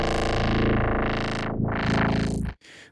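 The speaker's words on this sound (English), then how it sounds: "So now we have two parallel morphing filters going on at the same time." Two parallel morphing filters in Reaper sweeping a buzzy, harmonically rich synth tone, the timbre swooping up and down in overlapping arcs for a few seconds before cutting to a brief quieter tail, no speech.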